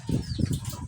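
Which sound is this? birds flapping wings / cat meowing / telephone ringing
birds flapping wings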